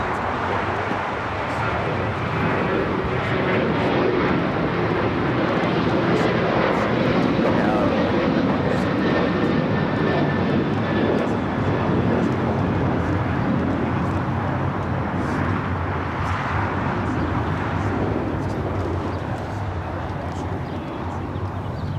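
A Spirit Airlines jet takes off from runway 25 right at LAX with a loud, sustained engine roar that holds steady throughout, while radio chatter and voices continue underneath.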